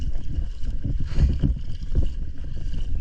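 A bangka boat travels across open water near Ando Island on a spearfishing outing, its low rumbling engine and water wash close and steady, with buffeting wind noise.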